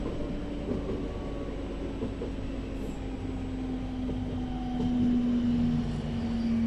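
A West Midlands Railway class 323 electric train heard from inside while riding, a steady rumbling hum with a rising motor whine that grows louder toward the end.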